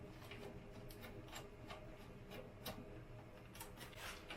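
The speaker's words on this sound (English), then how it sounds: "Sliding around on a plastic bag" Steady crinkly rubbing and scraping, like something sliding over a plastic bag, close and fairly quiet, with irregular louder rustles.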